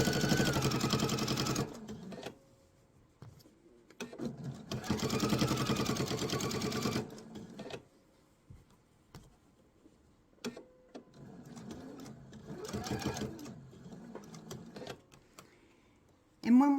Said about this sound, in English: we're going to sew until we're just about 1/4 of an inch from the